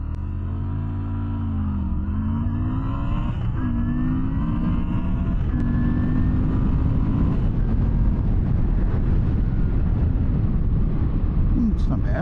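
A 2023 Moto Guzzi V9 Bobber SE motorcycle accelerates hard from 0 to 60, its engine note climbing in pitch through several gear shifts, loud and close, with a rising roar and steady wind rush.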